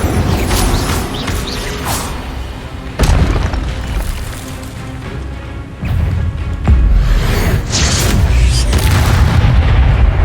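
In Hogwarts Legacy, casting the Incendio spell sets off a string of loud whooshing bursts and booming impacts, each spell blast landing a few seconds apart over a steady game background.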